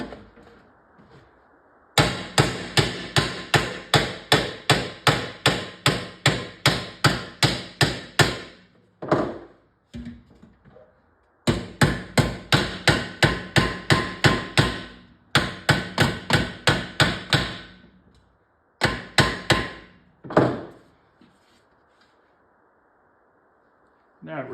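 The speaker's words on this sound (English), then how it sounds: "I'm almost wondering if I hammer on this edge downwards" A hammer pounds on the bent edge of a coin door from a Stargate arcade cabinet, long bursts of rapid, loud, ringing metallic blows separated by short pauses and a few isolated strikes, with no talking.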